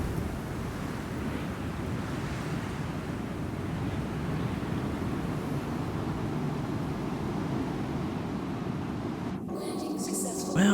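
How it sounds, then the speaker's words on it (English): Steady, roaring wind sweeps across the planet microTech in the space game Star Citizen, a continuous broadband rush that persists for several seconds before shifting to a different mechanical hum near the end. "Sounds really windy."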